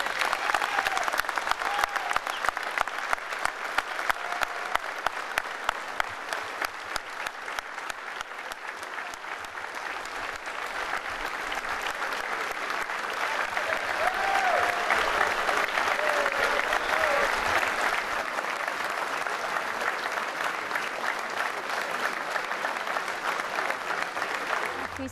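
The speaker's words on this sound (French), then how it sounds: "Une minute d'applaudissement pour justement lui dire un grand merci." A large crowd gives a long, sustained round of applause, a thick, continuous clapping roar that swells slightly midway and carries on steadily with some cheering mixed in.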